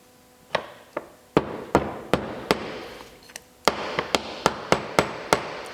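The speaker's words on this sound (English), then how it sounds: "take the hammer, just kind of tap it in" A hammer taps an aluminum part into the bolt head of a Savage rifle bolt, giving a series of sharp metallic strikes at a steady pace, a few scattered knocks first and then a quicker run of even taps.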